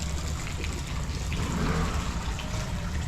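Water flows steadily at Lilau Fountain in Macau, a continuous outdoor trickle and splash heard close by and at even loudness, with no talking.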